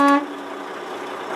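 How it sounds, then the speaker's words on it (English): A short, loud horn blast from a truck during a CDL pre-trip inspection check, a single tonal honk lasting a fraction of a second and then cutting off into quiet cab ambience. "I need to show them that my horns work, the city horn and the air horn."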